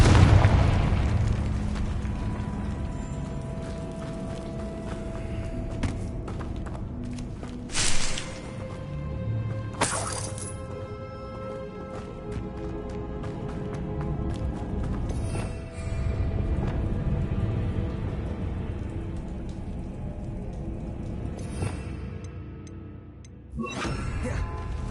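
Confringo spell blasts explode in a Harry Potter video game, a series of loud booming bursts with sharp crackling peaks amid a dense rumbling game soundscape. There is no speech.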